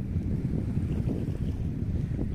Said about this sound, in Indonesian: Angin timurnya lumayan kencang.